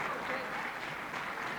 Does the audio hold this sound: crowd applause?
yes